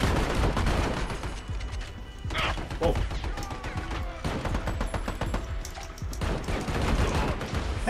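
Pistol gunfire in the Army of Two video game: rapid, dense bursts of shots and impacts crackle steadily throughout, with sharp cracks stacking up over a busy game soundscape.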